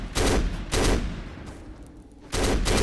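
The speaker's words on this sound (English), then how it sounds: "All you have to do is just shoot the mines, and they will explode, and hopefully take out enemies with them" Gunfire and exploding mines in the shooter game Black, loud booming blasts in three heavy bursts with a decaying rumble between them.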